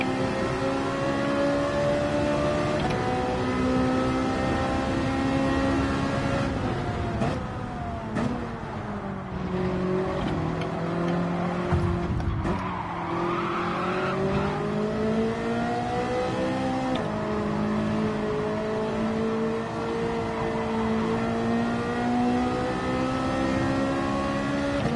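A Ferrari race car in Gran Turismo 7 accelerates hard off the line, its engine a steady, loud, high-pitched howl that climbs through gear changes with brief dips and surges over about twenty-five seconds, close and without talk.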